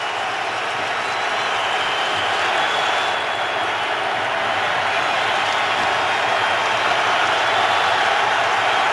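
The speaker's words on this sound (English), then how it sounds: "Now the crowd senses this is the big point" Stadium crowd at an NFL game between the 49ers and Giants in 2014 holds a steady, dense roar from start to finish, with a slight swell toward the end and no distinct voices standing out.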